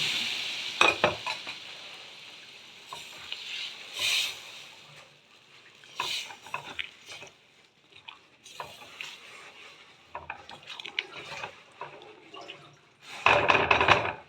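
Boiled red lentils go into a pan of cooking vegetables, producing scattered splashes, bursts of sizzle and clinking stirs separated by quieter gaps, with a louder splashing burst near the end.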